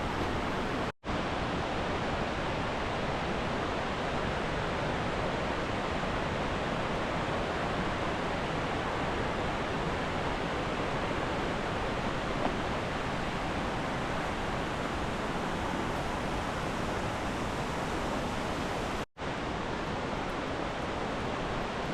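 Steady roar of waterfalls along the Wahclella Falls trail in the Columbia River Gorge, a dense, unbroken rush of falling water that holds constant for the whole stretch, broken only by two very brief cuts.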